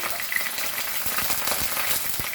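Garlic frying in a pan of hot oil with curry leaves, giving a steady, close, bright sizzle and crackle with faint stirring scrapes and no talk.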